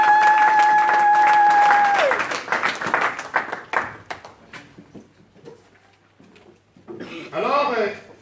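A church congregation bursts into applause and cheering, a dense wash of clapping that swells, thins into scattered claps, then rises again briefly near the end.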